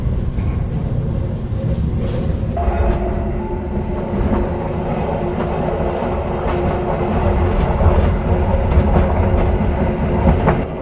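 The KA Anggrek passenger train departs Semarang Tawang station, heard from on board as a loud, continuous low rumble with rhythmic wheel clatter throughout.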